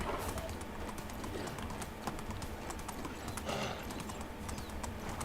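A donkey's hooves clip-clop in a Medieval Dynasty game, a steady run of light, quick hoofbeats heard close and moderately faint, with no talk.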